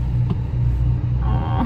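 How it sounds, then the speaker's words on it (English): Steady road traffic rumble of cars passing nearby, a continuous low engine drone with a slight rise toward the end, heard alone without talk. "Look at the traffic"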